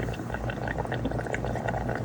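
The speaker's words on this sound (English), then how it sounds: "you see the water coming out." Water flowing out in a blackworm tank, a close, continuous bubbling trickle that stays steady and moderately quiet.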